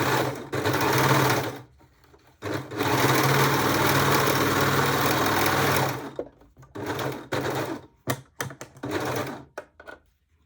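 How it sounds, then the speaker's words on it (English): An overlocker stitches a new seam on a pair of pants being mended, whirring in two long loud runs, then breaking into short stop-start bursts near the end, close up with no talking. "So that's my new seam, and I will overlock it."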